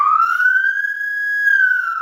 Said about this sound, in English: So I used it as the siren on this police car.